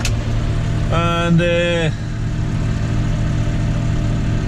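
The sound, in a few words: engine revs set to 540 for a sprayer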